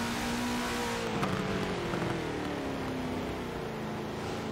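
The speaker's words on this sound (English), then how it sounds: "You can actually hear him getting off the throttle" MTS Pro GT race car engine droning at steady revs, then the pitch slowly falls as the driver lifts off the throttle, continuous and fairly loud with no voices.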